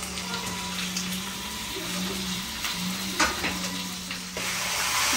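About 750 grams of chicken frying in oil in a pan, a steady crackling sizzle with a low hum underneath and occasional louder pops, continuous and close.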